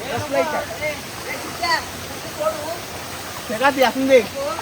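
Waterfall on a monsoon trek, a steady rushing wash of water in the background while people talk over it close by.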